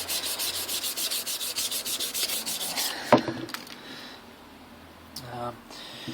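Abrasive paper at 1200 grit rubbing steadily along the frets of an SG-style bass copy during fret polishing, a dense continuous scrubbing for about three seconds that then stops, leaving a few faint handling noises.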